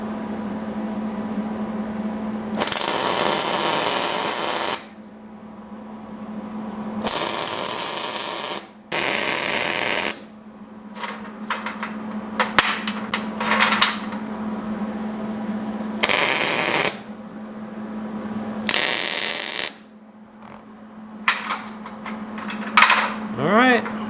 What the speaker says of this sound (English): Let's just go ahead and weld these on.